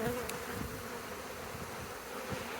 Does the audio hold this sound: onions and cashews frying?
no